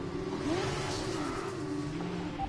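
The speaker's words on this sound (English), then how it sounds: "And we spin out in the formation lap once again." F1 24 video game car spinning out on the formation lap: a steady engine drone with sweeping revs and tyre whoosh, loud and continuous throughout.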